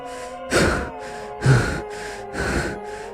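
A frightened woman pants in three heavy, gasping breaths about a second apart, close and alone with no talking.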